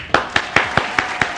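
Audience applause welcoming poet Harshvardhan Aurangabadi at an Independence Day poetry gathering: six sharp, evenly spaced claps ring out in a steady rhythm, clear and close with a light room background.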